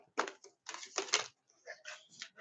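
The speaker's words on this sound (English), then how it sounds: "We're almost done doing my version of shuffling." Cards being shuffled by hand come through as quiet, crisp bursts of riffling and flicking in short uneven clusters, close and soft, with pauses between.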